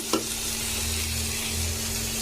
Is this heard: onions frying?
yes